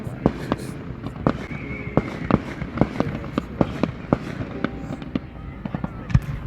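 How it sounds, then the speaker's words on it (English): Fireworks set off on July 4th crack and pop in an irregular string of sharp bangs at moderate distance, with faint voices in the background. "they're popping the fireworks"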